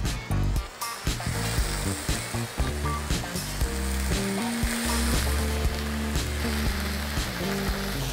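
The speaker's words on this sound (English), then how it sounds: "We're gonna throw right into the pan. That's the sizzle we wanna hear." Loud, constant sizzling of chicken frying in a hot pan, with steady crackle and hiss, backed by music.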